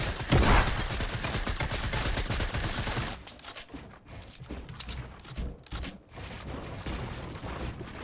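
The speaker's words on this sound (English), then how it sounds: "there's another guy shooting me too!" Rapid bursts of gunfire in a Fortnite battle, loud and dense for the first three seconds, then thinner scattered shots and mechanical clatter continuing at a lower level.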